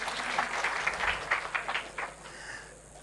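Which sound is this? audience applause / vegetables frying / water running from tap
audience applause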